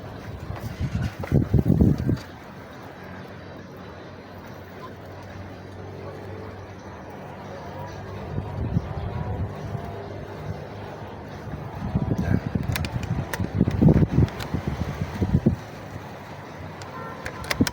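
Gusty wind buffets the microphone outdoors during a side-lever PCP air rifle test, in rough bursts, strongest at the start and again later, with faint background rumble between.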